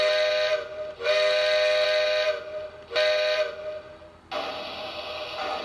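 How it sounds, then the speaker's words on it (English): A toy steam train whistle from a Lionel LionChief Chicago & Northwestern set blows in several long, loud blasts with brief gaps between them, sounding close and clear. "it's got a pretty good sounding whistle"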